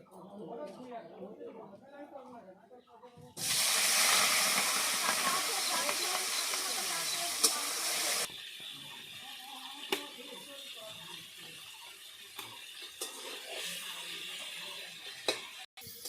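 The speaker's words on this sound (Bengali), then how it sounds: "তেল গরম হয়ে গেছে, এবার চিংড়ি মাছগুলো দিয়ে দেব" Prawns go into hot oil with a sudden loud hissing sizzle after a few quiet seconds, then fry in a steadier, softer crackle that continues to the end.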